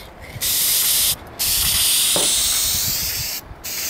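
Dupli-Color Perfect Match spray paint can hissing in long continuous bursts onto a car panel, with brief pauses between sprays, close and steady.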